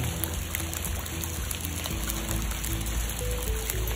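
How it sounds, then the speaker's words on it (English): Very small hail falls steadily outdoors in El Paso during a sudden cool autumn weather change, a continuous soft pattering hiss with scattered tiny ticks, moderately loud and unbroken, with no talking. "very, very small hail"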